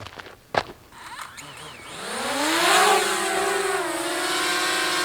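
A DJI Mavic Mini drone lifts off. A few sharp clicks come first, then the propeller whine climbs in pitch and holds as a steady, close buzz for the rest of the clip.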